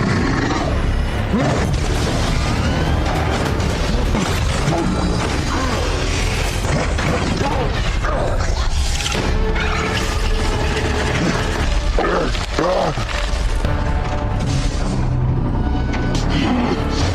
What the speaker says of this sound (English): now Tessa comes riding a Gundam mecha robot